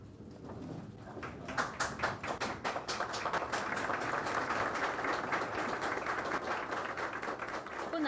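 A crowd applauds the CICIG commissioner and attorney general Telma Aldana, scattered claps quickly building into steady, sustained applause that carries on throughout.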